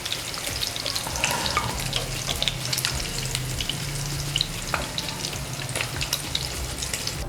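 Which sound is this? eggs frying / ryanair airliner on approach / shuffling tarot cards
eggs frying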